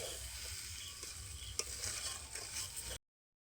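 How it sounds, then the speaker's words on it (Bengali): Rice and potato dough stirred in a wok over heat, with a soft continuous sizzle, scraping strokes and one sharper knock partway through, ending in silence. "এবার এটাকে তিন থেকে চার মিনিটের জন্য নেড়ে নিতে হবে"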